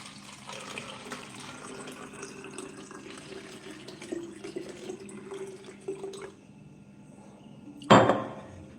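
Water running from a tap into a glass for drinking, a continuous splashing stream with a louder burst near the end, heard indoors without talk.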